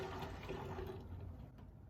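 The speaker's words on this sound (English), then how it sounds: "take my funnel, put it into the bottle, pour your warm yeast mixture into the bottle" A warm yeast mixture pours through a funnel into a bottle, a faint, continuous liquid gurgle that tapers off near the end, with no talking.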